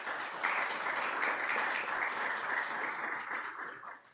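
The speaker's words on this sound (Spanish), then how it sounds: "Por favor, un fuerte aplauso." Audience applause at a conference after a company engineer is introduced, steady dense clapping from a crowd filling the whole stretch, fading slightly at the end.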